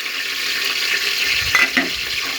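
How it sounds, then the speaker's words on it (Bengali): Ginger garlic paste sizzles steadily in a pressure cooker while pulao is made, a constant close hiss of frying with a couple of faint stirring knocks near the end, and no voices. "এরপরে আমি দিয়ে দিচ্ছি আদা রসুন পেস্ট"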